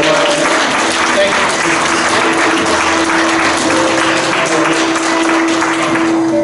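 A church congregation clapping during an offering celebration, dense continuous applause that stays loud and steady throughout, with a voice talking over it.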